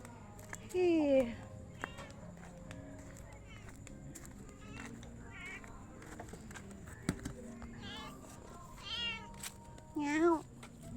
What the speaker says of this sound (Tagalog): I got a new kitten.